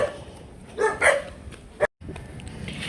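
A dog barks in a couple of short, sharp yips close by at a family birthday gathering, with a brief dropout and some background noise.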